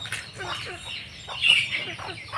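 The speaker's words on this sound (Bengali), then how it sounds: "এরকম 4টা মোরগ আছে" Native village-market chickens and roosters give scattered, nearby clucks and a sharper squawk, fairly quiet over a faint background murmur.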